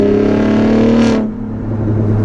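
A 2022 Ford F-150 Raptor pickup's engine holds a loud, steady tone close by, swells briefly into a short rising rev and then drops back to a lower hum.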